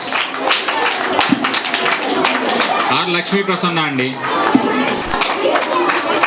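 Applause at a school annual day prize giving, a crowd clapping steadily with a loudspeaker voice announcing names over it.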